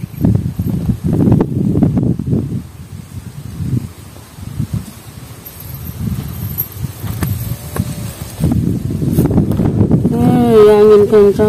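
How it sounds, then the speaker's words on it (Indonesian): Strong wind at sea buffets the microphone in gusty, roaring bursts on a fishing boat, rising and falling, and a brief tonal whine appears near the end. "Angin kencang."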